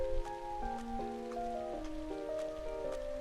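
Light rain patters steadily in the video game Trails of Cold Steel, a quiet hiss beneath a gentle stepping melody.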